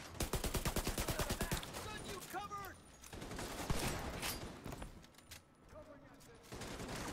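A Gatling gun fires in The Division 2 video game: a rapid, evenly spaced stream of loud shots opens the scene, then a voice talks over continued fighting and scattered gunfire.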